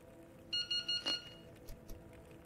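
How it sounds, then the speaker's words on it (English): An alarm in Into the Radius sounds a quick run of four bright electronic beeps, then a sharper chime. Fainter clicks and a low background hum follow. "Should I just rest another hour to get the beeping away?"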